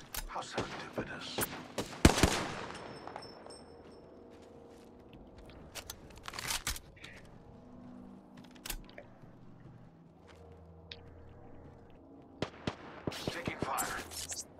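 Enemy gunfire in a ring-based shooter video game: scattered sharp shots and short bursts, heaviest near the start and again at the end, with quieter clicks and faint voices in between.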